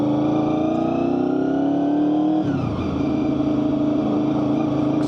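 Honda VFR800fi motorcycle engine accelerating on the road, a loud steady drone rising in pitch through one gear, then a brief dip at the shift and a lower pull continuing, heard from the rider's position.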